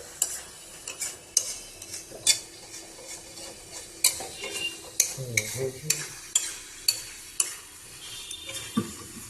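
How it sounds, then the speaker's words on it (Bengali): Duck meat curry being sautéed in a pan, with repeated sharp scrapes and clinks of a utensil against the pan at a steady rhythm over a faint sizzle, close by, with no talking. "পাঁচ মিনিট ঢাকা দিয়ে 5 মিনিট কষাচ্ছি"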